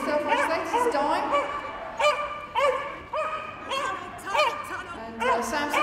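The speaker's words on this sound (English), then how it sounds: "he barks when he's happy, so I guess he's pretty happy at the moment" A dog barks repeatedly and excitedly during a large novice agility jumping run at Crufts, with commentary running over the bright, clustered barks in a noisy arena.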